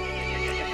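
A horse in the video game Resident Evil Village lets out a loud, strained whinny. The call is brief and harsh and fills the moment alone, with no talking.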